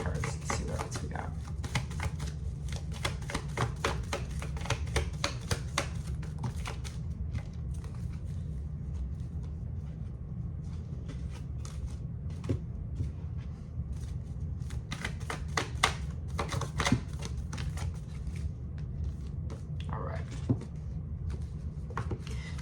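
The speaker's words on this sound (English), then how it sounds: "let me pull some oracle cards and see what else we got" Oracle cards being shuffled by hand during a reading: soft, repeated riffling and flicking in uneven bursts over a steady low room hum, close and fairly quiet throughout.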